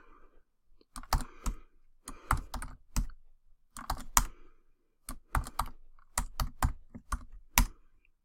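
Computer keyboard typing in quick bursts of crisp clicks, separated by short pauses, close and fairly quiet with no voices.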